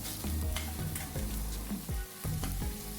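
Garlic and ginger fry in a hot pan, a steady close sizzle broken by repeated scraping stir strokes, loud with no voices.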